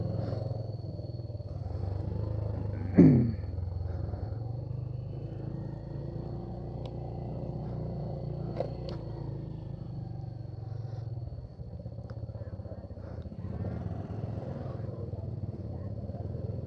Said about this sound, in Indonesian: Kita pakai 3 motor ya temennya,